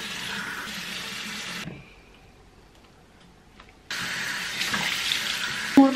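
A home shower runs with a steady hiss of spraying water. It drops away to near silence midway, then resumes just as strongly, with a brief clatter at the end.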